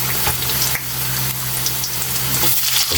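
Onion, garlic and ginger sautéing together in a hot pan for ginataang papaya, a loud, dense, close sizzle with a few brief dips and knocks as the spatula stirs.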